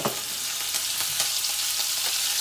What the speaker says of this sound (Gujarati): હવે આપણે જીરુંનો વઘાર કરીશું